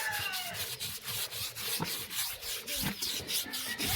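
Continuous rapid scrubbing of a pig with a toothbrush, a dense rasping rhythm close up, steady and loud for the whole stretch.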